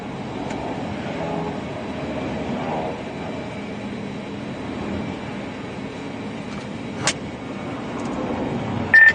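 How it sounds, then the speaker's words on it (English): A long convoy of storm chaser vehicles passes by on a Kansas road during supercell weather, a steady rolling traffic rumble with a few brief louder swells, moderately close and without talk. "Absolutely massive convoy of chasers going southbound right now, all passing me."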